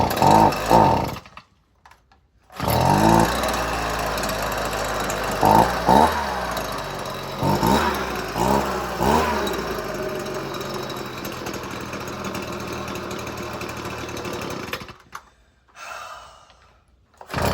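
A Husqvarna 125BV gas leaf blower with a cracked tank runs close by with a loud, rough two-stroke drone that surges and dips unevenly, sputtering between short gaps and bursts of revving.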